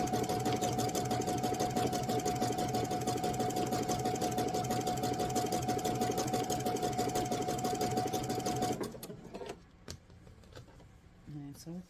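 A sewing machine runs a zigzag stitch joining two fabrics for a Bali bowl, a fast steady whirring hum that stops abruptly near the end, followed by quieter handling sounds and a voice speaking.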